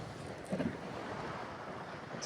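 Sea waves wash steadily along the Greek coast, a soft, continuous broadband rush mixed with gusting wind, fairly faint and with no voices.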